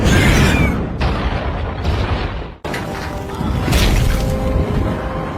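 A loud, booming film explosion rumbles and crashes in repeated bursts with a heavy low roar, part of a monster movie scene in which the blast draws out a giant lava spider queen.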